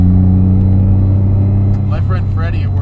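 Loud, steady low engine drone from a modified 1995 Mitsubishi 3000GT VR4 held at its boost limiter, droning on inside the cabin while someone talks over the end.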